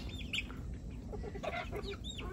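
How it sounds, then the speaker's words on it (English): Farmyard chickens cluck softly at a feeding spot in Liberia, scattered short calls over steady low background noise. "As soon as I open my door, the chickens are here"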